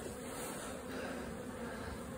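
Robbing bees swarm around stacked hive boxes full of honey, producing a continuous, close buzzing drone that holds steady without pause, with no voices.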